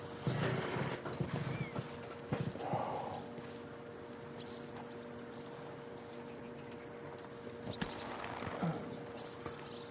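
Horse hooves clip-clop at an easy walking pace in Kingdom Come: Deliverance II, light rhythmic taps over a faint steady background hum, with an occasional louder thump.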